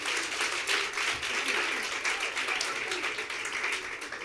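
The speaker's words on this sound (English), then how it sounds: "I would like you to give yourselves a big round of applause." Young people in the audience at a Language Awareness Week official opening give sustained applause, a dense, even wash of clapping that lasts throughout.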